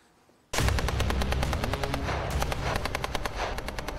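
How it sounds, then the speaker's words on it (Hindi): Continuous gunfire on the Bakhmut front line, a loud near burst of rapid machine-gun fire starting abruptly and running without pause, dense rattling shots over a heavy low rumble. "बखमूत के इस बाहरी मोर्चे पर लगातार फायरिंग चल रही है"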